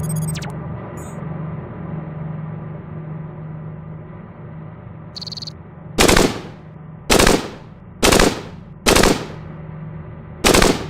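Five sharp, loud bursts of assault rifle fire spaced about a second apart in the robot roguelike game CogMind, each ringing briefly over a steady low electronic hum.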